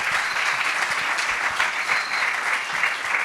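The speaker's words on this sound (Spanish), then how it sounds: "Un aplauso." Warm, steady applause from a lecture-hall audience welcoming speaker Ezequiel Barricart at a cultural talk on the metaverse, dense clapping filling the room evenly without a break.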